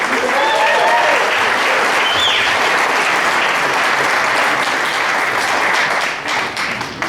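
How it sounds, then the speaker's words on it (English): Loud, sustained applause from an audience at a political group's general meeting, thick continuous clapping throughout with a few cheers mixed in, easing off only in the final second. "So, you can clap."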